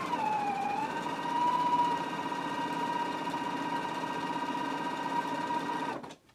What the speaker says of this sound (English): So now we can go to the machine and stitch close to this lower pressed edge.